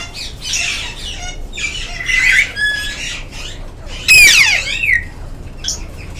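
Raw and grey parrots in a breeding setup give repeated harsh squawks and chattering calls at close range. One loud, sweeping screech stands out partway through, over faint background noise.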